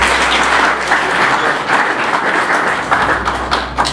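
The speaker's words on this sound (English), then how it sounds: "Please, let's give them some round of applause." Steady, loud applause from an audience at a cotton product relaunch event in Ghana, dense continuous clapping filling the whole stretch without pause.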